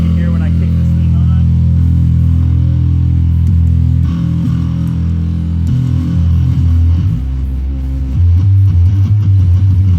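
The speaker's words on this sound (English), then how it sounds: "That's just straight preamp distortion." Bass guitar played through a preamp turned all the way up with no pedal, a loud, thick, continuous distorted low-end drone with gritty overtones throughout.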